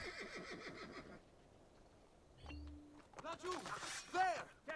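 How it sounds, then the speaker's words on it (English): A horse in a video game neighs in a brief whinny amid game sounds and hoofbeats, with voices talking over parts of it. "Horsey!"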